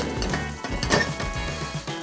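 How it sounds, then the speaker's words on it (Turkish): Peas stirred in a hot pot, giving a short, close burst of sizzling with soft scraping as the contents are turned. "Şöyle bir karıştırıyorum."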